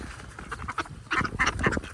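Ducks gathered for feeding give a scattered series of raspy quacks that grow louder and denser toward the end, heard close and without talk.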